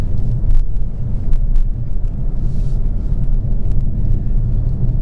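A 2022 Hyundai Kona N with a 2-litre turbo engine rated at 280 hp accelerates hard, a loud, sustained low engine rumble with a few sharp clicks and pops on top.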